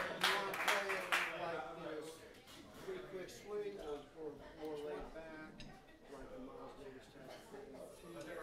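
An audience at a speakeasy jazz night claps for a drummer, a brief burst of applause at the start that fades under a voice speaking over a microphone.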